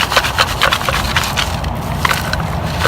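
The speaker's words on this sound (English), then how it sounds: "Get our sifter full of dirt here. What you want to do is sift this dirt on top of here so it's nice and light." Loose dirt shaken through a hand sifter over a buried coyote trap, a continuous gritty rustling with rhythmic scraping shakes, close and steady.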